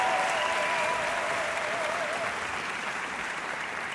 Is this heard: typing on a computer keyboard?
no